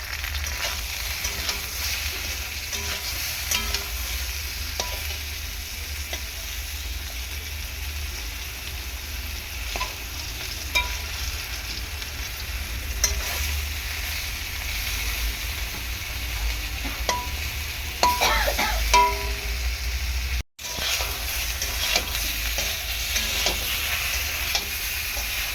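Eggplant pieces with turmeric and salt fry in a pan, a constant close sizzle with scattered scraping and clicking from stirring and a brief dropout near the end.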